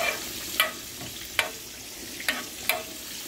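Onions fry in a pan with a soft, steady sizzle, broken by a few sharp clinks or scrapes of stirring at irregular intervals.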